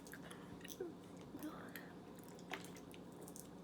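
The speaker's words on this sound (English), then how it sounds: "how much time am I gonna chew on this?" Someone chews food close up, with soft wet squishing and occasional bites in an uneven rhythm, quiet against a low steady background.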